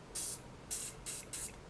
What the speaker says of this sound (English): I don't care if I spray in my hand